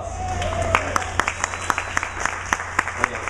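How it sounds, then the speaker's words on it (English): A small audience at a NASA STS-133 Tweet-up claps during a demonstration of putting on an ACES pressure suit: crisp, separate hand claps at an uneven pace over a steady room hum, with a faint voice underneath. "applause"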